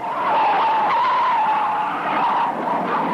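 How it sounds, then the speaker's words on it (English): A big black car barrels down a street in a 1974 cartoon, its tires squealing in a loud, sustained skid that holds steady for about three seconds. "look at the big car barreling down the street"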